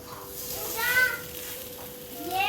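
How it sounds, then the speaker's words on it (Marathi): A chapati roll toasts on a buttered tawa over low gas, giving a soft, steady sizzle close by that swells briefly midway, with faint voice traces underneath. "आणि मग आपल्याला तव्यावर बारीक गॅसवर चांगली छानपैकी शेकून घ्यायची"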